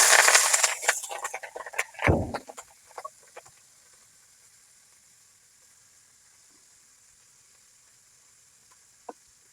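Onion, garlic and green chilli hit hot oil in a village kitchen with a loud, crackling sizzle that peaks within the first two seconds. The sound then fades quickly to a faint hiss with an occasional pop.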